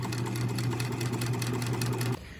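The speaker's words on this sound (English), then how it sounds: "I'm going to take this back to my sewing machine and I'm going to sew down just this one side" A sewing machine stitches a single straight fabric seam with a quarter-inch seam allowance, a steady close mechanical whir running for about two seconds before stopping abruptly.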